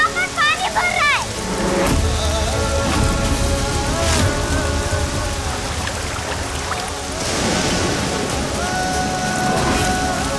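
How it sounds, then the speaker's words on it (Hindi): Heavy rain pouring down in a steady wash, with a voice and music layered over the downpour for the whole stretch. "भाई बारिश हो रही है, यहाँ पर पानी भर रहा है।"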